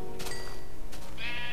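Sheep in the Minecraft video game bleat loudly and close, a couple of short overlapping bleats heard alone with no talk.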